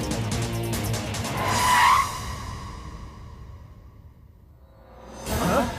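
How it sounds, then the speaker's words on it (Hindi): A car speeding away with a loud tire squeal and skid that peaks early, then fades as the car recedes, followed by another rising whoosh of a passing car. "गाड़ी भगा।"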